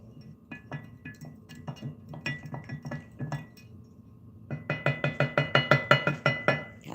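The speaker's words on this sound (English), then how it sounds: "I'll stir it just a little bit" Grains are stirred in a container, giving sparse clinks and scrapes at first, then a fast run of bright, rhythmic clinks near the end, close and fairly loud.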